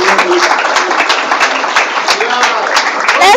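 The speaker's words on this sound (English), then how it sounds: "Let's keep clapping, please." An audience at a real estate training course claps in steady, dense applause that holds loud and even throughout, with a voice briefly heard near the end.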